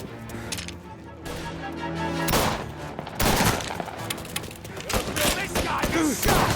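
Gunfire in the Mafia video game: a few sharp shots and bursts crack out amid game music and effects, with voices talking over the action.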